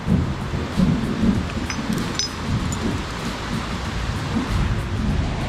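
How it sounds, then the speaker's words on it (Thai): Heavy rain pours down in a dense, continuous hiss with low rumbling underneath, loud and steady throughout with no voices. "ฝนมันตกแรงหน่อยนะ"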